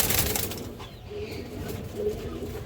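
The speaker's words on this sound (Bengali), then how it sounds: "আর এখানে দর্শক বড় সাইজের একটা খরা গলা মাদি কবুতর আছে।" A large khora-gola female pigeon gives soft low coos, a couple of short murmuring calls close by, with faint rustling around them.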